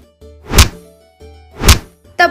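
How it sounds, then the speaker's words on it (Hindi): A sound effect of several men beating someone: two heavy, loud thuds about a second apart, each over a low hum, then a sharp third hit at the end. "कहने से सारे आदमी मिलकर कपाड़िया को खूब पीटे।"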